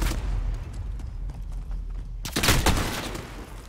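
Gunfire in a 2v2 video game shooter match, with dense rapid bursts throughout and a louder, heavier volley in the second half, close and continuous, no speech.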